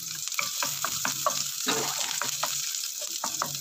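Chopped onion and garlic sizzle in hot oil with a bright, steady crackle, punctuated by rhythmic scraping and stirring of a utensil against the pan, close up and without talk.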